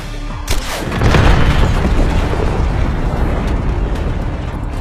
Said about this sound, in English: Take it out before it launches! Fire an RPG at it!